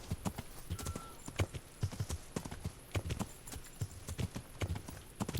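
Horse hooves clip-clop steadily at a walking pace in the video game Kingdom Come Deliverance, a close, even rhythm of hoofbeats with no talk over them.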